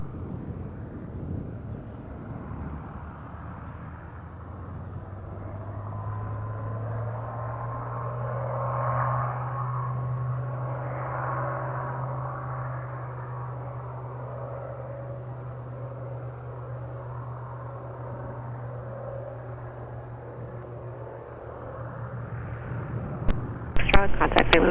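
A general aviation airplane departing runway 8 right at Spirit of St. Louis Airport, engine drone building and holding steady at moderate distance, with radio chatter and wind buffeting the microphone.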